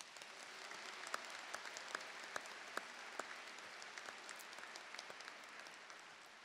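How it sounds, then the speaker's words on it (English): Applause at a university engineering commencement ceremony, a large audience clapping steadily with a few sharper claps standing out, heard from some distance and rather faint. "Let's give all of them a round of applause."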